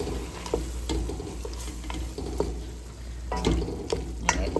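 Asparagus sautéing in chicken broth for asparagus cream soup, a steady soft sizzle with scattered clinks and scrapes of stirring in the pan throughout.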